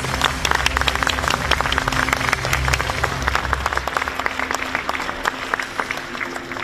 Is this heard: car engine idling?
no